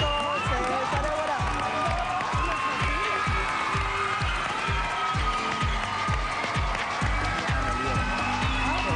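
Loud studio audience applause and cheering on a Spanish-language TV talk show, dense continuous clapping with rhythmic thumping underneath throughout.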